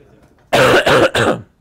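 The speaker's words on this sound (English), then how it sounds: "And sorry for the coughing." A man coughs and clears his throat during a presentation on sensor-based ore sorting, a close, loud burst of three rough hacks in quick succession after a brief quiet pause.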